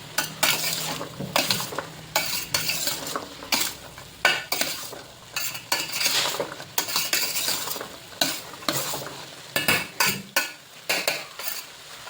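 Pineapple rice being stirred and mixed in a pan with a utensil, giving repeated scraping and clinking strokes over a soft sizzle, close and steady throughout.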